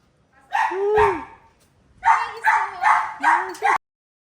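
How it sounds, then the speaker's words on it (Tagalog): A dog barks close by, one single bark, a short pause, then a quick run of four barks. "May aso!"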